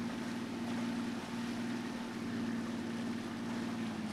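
The motor of a boat in a video game runs at a steady, low, droning hum, fairly quiet and unbroken, with no voices over it.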